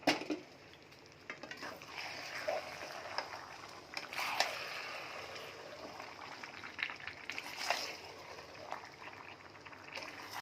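Chicken pieces fry and get stirred in a pan with a ground nutmeg and mace mix, a soft steady sizzle broken by periodic scraping stirs, close and fairly quiet with no talking.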